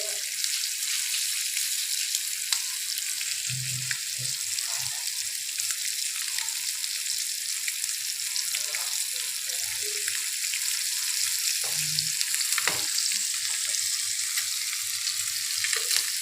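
Fish pieces sizzle steadily in hot oil in a Hyderabadi-style fish fry, a continuous bright crackle with occasional soft low bumps from the pan, no voices over it.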